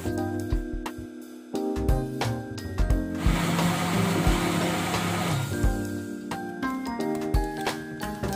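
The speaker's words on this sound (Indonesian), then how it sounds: "Ini akan di blender bersamaan dengan alpukatnya." An electric blender whirs loudly for about two seconds, blending avocado with UHT milk, between kitchen knocks and clatter, with steady tonal background music throughout.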